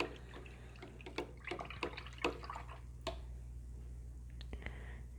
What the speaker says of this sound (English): I'm going to rinse that out of my brush